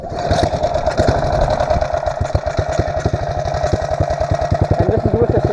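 Mini bike with a centrifugal clutch, engine running hard during wheelies, a loud, close, continuous buzzing drone with a steady rapid firing pulse and slight rises and dips in pitch throughout.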